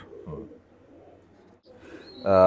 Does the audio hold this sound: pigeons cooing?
yes